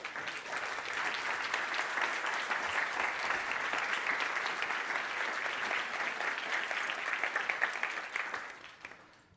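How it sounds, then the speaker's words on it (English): An audience at a games research and user experience conference session applauds steadily for about nine seconds, a dense, sustained wash of clapping that fades out at the end. "You can stand up and clap for yourself if you want."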